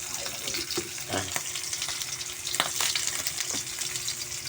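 Dried fish (tuyo) frying in a pan gives a continuous soft sizzle and crackle, with a few scraping stirs and light clinks, all fairly quiet and with no talking.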